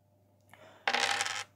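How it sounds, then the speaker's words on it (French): Dice roll in a board game called Comme des rats, heard as a brief rattling clatter on a table that lasts about half a second, preceded by faint handling clicks, with no talking. "Le premier joueur va lancer les dés, ce qui va lui indiquer donc les actions qu'il va faire."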